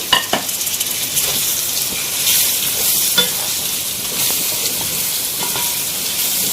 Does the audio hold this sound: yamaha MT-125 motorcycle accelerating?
no